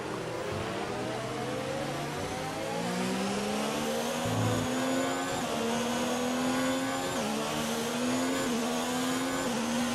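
An F1 car engine in F1 2019 revs with a loud, continuous high-pitched whine. It climbs and shifts through gears in repeated rising sweeps, stays close, and carries no talking.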